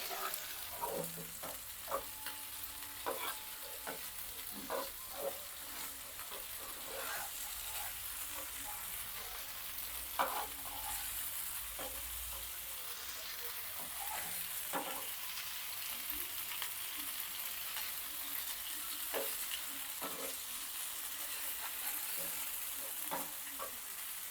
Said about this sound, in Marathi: गॅस मोठा करूनच आपल्याला हे चांगले परतायचे आहेत कारण मासे शिजायला वेळ लागत नाही पटकन शिजतात